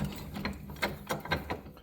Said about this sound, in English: A little vise here to open up a little bit more.